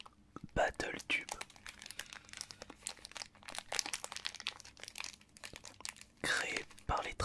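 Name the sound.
tearing open BattleTube trading card booster pack wrappers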